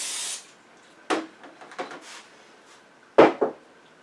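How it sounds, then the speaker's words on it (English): Short hissing bursts of aerosol cooking spray onto silicone muffin pans, a few separate sprays with brief pauses and light handling clatter between them, close by. "let me spray a couple of these muffin pans"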